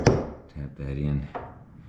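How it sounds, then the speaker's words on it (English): Light wooden taps on a carburetor emulsion tube for a 1961 VW Beetle, a small piece of wood knocking it into place: a few soft, dull knocks close up with short gaps, fairly quiet. "brought in a little piece of wood so I could tap them in"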